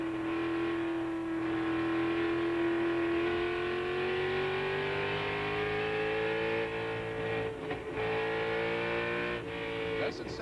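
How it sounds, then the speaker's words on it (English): A 2001 USAC Silver Crown race car at Phoenix, heard from an in-car camera with its engine down on power, a steady droning engine tone rising slowly in pitch, with brief dips as the throttle lifts, under commentary. "Doesn't sound like the engine may be at full song on that car."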